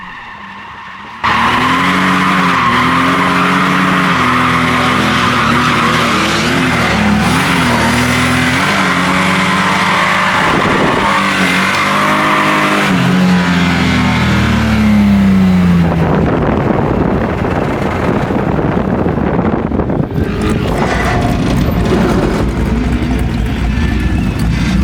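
A drift car roars around a track, its engine loud and revving while tires squeal and skid almost continuously, the pitch rising and falling through slides before settling into a rough, noisy roar near the end.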